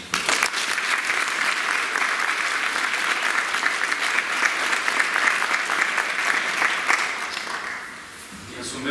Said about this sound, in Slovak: Čiže veľký potlesk pre nich.